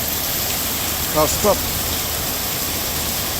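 Heavy rain pours on Marar Road in Thrissur while the road is being tarred, a loud, dense, steady hiss throughout, with a brief voice speaking over it.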